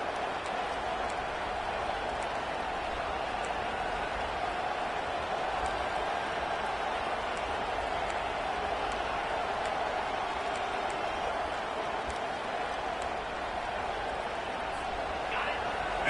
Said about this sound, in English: this crowd coming to life here